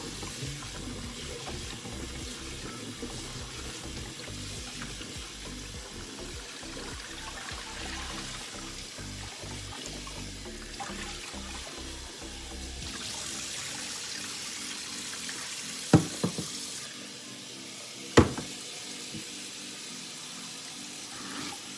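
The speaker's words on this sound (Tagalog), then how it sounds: "Hugasan natin muna po." Steady running water splashes over freshly harvested potatoes being washed by hand, a continuous even gush with a couple of sharp knocks near the end.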